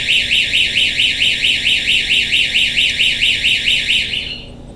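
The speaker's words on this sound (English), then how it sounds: "It's that simple to create an alarm system, right?" LifeSmart door sensor alarm system sounding, a loud, fast, pulsing electronic siren with regular warbling beeps, close and continuous for about four seconds before cutting off, with no talking.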